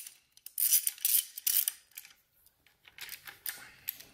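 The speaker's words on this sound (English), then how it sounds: "We'll start tightening these down." Bolts being tightened on a TSI TH400 transmission brake, a series of close metallic ratcheting and clicking bursts with short pauses between them, heard alone without talk.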